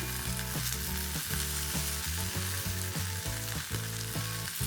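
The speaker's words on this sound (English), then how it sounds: "I actually like to caramelize all sides of my steak." Steak seared on its side in a de Buyer Prima Matera copper pan, giving a steady, continuous sizzle that runs under prominent rhythmic background music.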